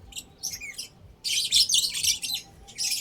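Birds chirp and squawk in quick bursts, loud and close, with brief pauses between clusters of calls.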